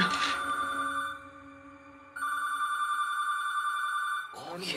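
In an abandoned, dusty motel, a telephone rings with a bright electronic trill in two long bursts separated by a short silence, loud and close, with a voice briefly at the end.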